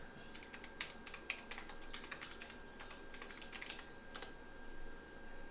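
Quick bursts of clicky keystrokes on a computer keyboard, near and fairly quiet, in irregular runs with short pauses, over a faint steady hum.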